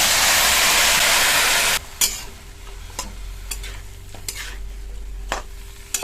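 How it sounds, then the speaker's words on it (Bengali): Washed pumpkin greens dropped into hot leftover oil from frying egg, a loud burst of hissing sizzle at first that drops off abruptly, followed by softer crackling and scattered stirring clatters against the pan. "এর মধ্যেই শাকগুলো দিয়ে দেবো ধুয়ে রাখা"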